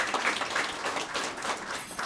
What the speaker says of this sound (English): Let's give you all a nice round of applause.